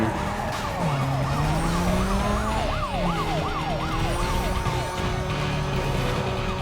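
Police car siren in the racing video game Need for Speed Most Wanted, a loud wailing and yelping siren sweeping up and down continuously over engine and car noise.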